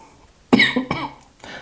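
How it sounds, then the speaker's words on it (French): A couple of sharp coughs close to the microphone, followed by a softer third cough after a short pause. "Excusez-moi, je tousse."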